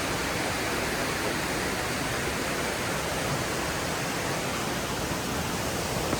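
The Ceunant Mawr waterfall in Wales pours in a dense, unbroken roar of falling water, steady and loud throughout with no other sound standing out.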